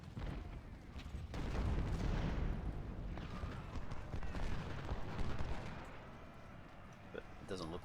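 Booming artillery and musket fire at First Bull Run in a Civil War battle game, with heavy rumbling blasts and crackling volleys swelling loud for several seconds before easing toward the end.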